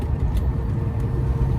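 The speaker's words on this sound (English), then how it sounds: "There's a car coming on your left." A car passes on the left of a truck hauling a super load along a highway, heard as a close, steady roar of engine and road noise with no voices.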